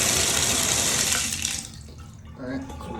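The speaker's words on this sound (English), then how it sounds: "The next thing I'm going to do is turn the water on and turn it over to hot" Shower water running full force from a faucet with a newly replaced Moen 1225 cartridge, a loud steady broadband rush that cuts down sharply midway, then resumes more softly with a lower, splashier flow.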